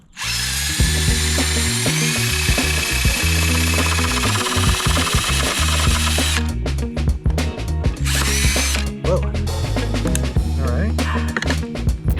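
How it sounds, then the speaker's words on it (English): A power drill cuts into a skateboard deck to make wheel wells, grinding loudly and steadily for the whole stretch with rattling, uneven pitch shifts as the bit bites into the wood. "you want to control the drill with one hand"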